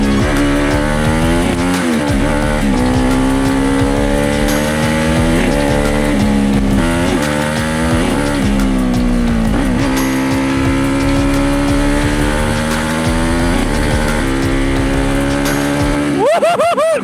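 A 100 hp supermoto motorcycle ridden hard, its loud engine revving up and down through gear changes and easing off under braking, close and continuous throughout with no talk.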